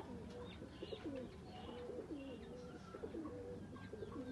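Galwa breed pigeons coo softly nearby, repeated low throaty cooing phrases over a faint background with a few light chirps.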